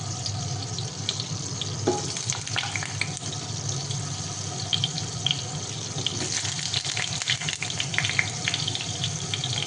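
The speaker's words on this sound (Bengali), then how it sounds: "আলুগুলো ভেজে নিচ্ছি" Potatoes frying in a pan for doi potol in a Bengali home kitchen, a steady close sizzle with faint scraping and clinks running throughout without pause.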